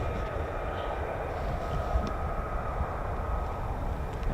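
An F-35B Lightning stealth jet roars on takeoff at an air base, a steady broadband rumble with no breaks, moderately loud and heard from some distance.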